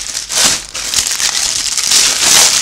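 A Temu package is being unwrapped: close crinkling and rustling of plastic wrap comes in uneven bursts, fairly loud and with no talking.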